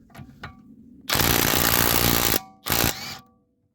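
Two bursts of a loud, rattling cordless impact wrench (Parkside Performance PDSSAP-20 Li D3, 4 Ah battery) loosening a nut with a ground-down impact socket, one long hammering run then a short second burst.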